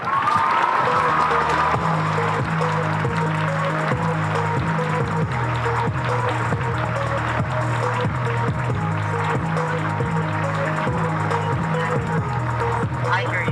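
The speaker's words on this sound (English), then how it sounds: "Please join me in giving a robust round of applause right now to Elizabeth Solomon, everyone." An audience at the unveiling of 'The Embrace' applauds in a continuous, dense wash of clapping that holds steady, with a low sustained hum running beneath it.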